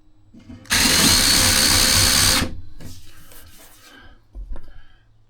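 Power drill running in reverse while countersinking a screw hole in plywood: one loud, steady whirring burst of about two seconds, followed by quieter handling noises and light knocks.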